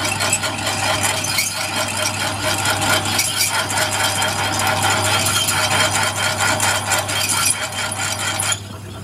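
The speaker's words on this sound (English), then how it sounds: "It's small lathe, but just fits." A small lathe machining a cast steel crankshaft from a Kohler K341 engine makes a continuous rattling, grinding mechanical chatter over a steady low motor hum, loud and close throughout.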